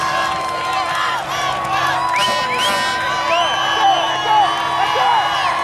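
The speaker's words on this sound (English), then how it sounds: "the crowd is going nuts" Crowd noise at a football game between the Atom and the Patriots, a steady roar of cheering, whoops and shouts with a few high voices, sustained and fairly loud throughout.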